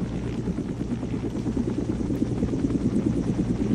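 A video game helicopter gives a steady, loud rotor chop and engine whir, close and constant throughout with no talking.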